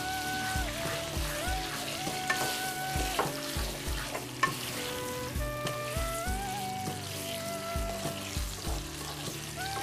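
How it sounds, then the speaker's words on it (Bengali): Meat and onions fry together in a pan for a brown stew, a steady close sizzle with repeated stirring scrapes and clinks throughout, without talking. "সব একসঙ্গে ভাজা হবে।"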